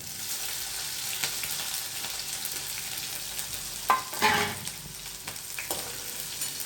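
Green chillies go into hot oil with red-browned garlic in a steel kadai over a low flame, giving a steady soft sizzle with a few louder crackling bursts as they hit the oil and are stirred.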